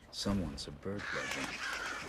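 Alarmed birds caw in the stealth game Thief (2014), giving a few close, harsh squawks in quick succession, then fading into faint ambient noise.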